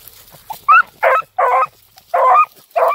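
Storm, a hunting dog chasing a rabbit, gives five or six close, sharp barks in an uneven rhythm, with short quiet gaps between them.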